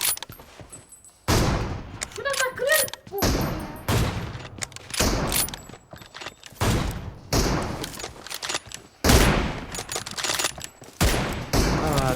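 Gunfire in the mobile battle royale game PUBG Mobile crackles in rapid bursts and volleys, loud and close, with a player shouting excitedly between shots.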